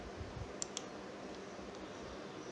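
A computer mouse on a Windows PC gives two quick, faint clicks in close succession against a quiet room background, with no voice.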